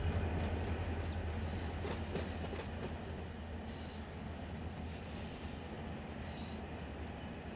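Freight train rolling steadily through a BNSF southbound run in the Run 8 train simulator, with a continuous loud low rumble of wheels and engine and faint rail clatter throughout, no voices.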